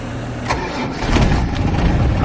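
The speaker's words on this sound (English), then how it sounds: "just want to show you how easily this 200 TDI starts up" A 1990 Land Rover Defender 110 with a 200Tdi diesel engine cranks briefly and fires up almost at once on a cool day, then settles into a loud, steady, rumbling idle close by.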